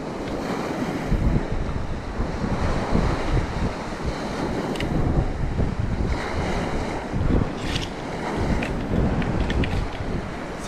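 Ocean waves wash in at the water's edge of a Long Island inlet, a constant loud surf roar mixed with heavy wind buffeting the microphone, with no voices.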